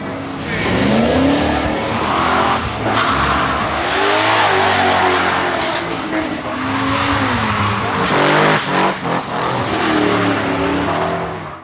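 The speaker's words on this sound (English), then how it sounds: "competitors were able to open up the throttle and enjoy some tail-happy power slides" Street Commodore cars revving hard and power sliding at the Sandown racing circuit, a continuous loud engine roar with rising and falling revs and tyre squeal, close and dominant throughout.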